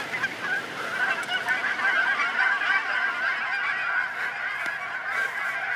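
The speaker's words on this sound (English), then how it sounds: "These birds are acting crazy recently." Geese honk loudly and continuously in a dense, overlapping chorus outdoors, steady throughout with a sharp call near the end and no talking.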